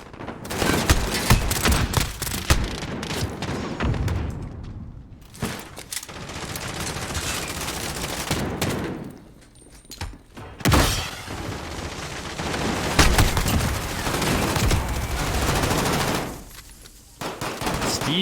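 Rapid bursts of video game gunfire as players shoot into smoke during a competitive team scrim, with loud, dense automatic and single shots over nearly the whole stretch and two brief lulls.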